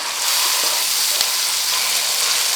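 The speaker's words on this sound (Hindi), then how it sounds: "अब ये हमारा प्याज का जो पेस्ट था हम वो डालेंगे।" Onion paste hits hot masala in a pan for a mutton shahi nargisi kofta dish, giving a loud, steady, close sizzle with faint stirring scrapes and no voices.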